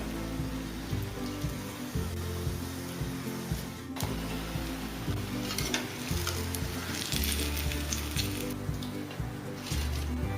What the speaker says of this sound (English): So dip the chili into the batter. Slide this to the hot oil.